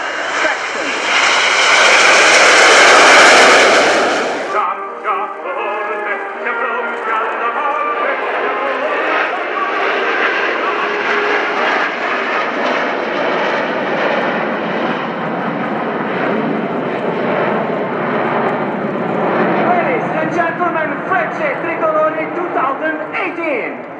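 Frecce Tricolori Aermacchi MB-339 jets take off at an airshow: a loud roaring jet pass dominates the opening seconds, then a sustained, steady engine rumble and whine continues underneath a voice commentating over the loudspeakers.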